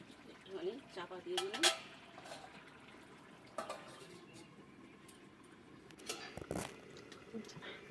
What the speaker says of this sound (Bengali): চিংড়ি মাছ দিয়ে আর একবার ভালো করে নেড়ে নেব।